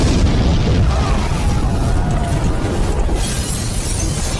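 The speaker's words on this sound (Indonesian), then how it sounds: "dia menarik bahan peledak tersebut dan terjadi ledakan" A loud, sustained explosion at a bank entrance in a film, a dense roaring blast with rumbling debris that fills the whole moment and slowly trails off.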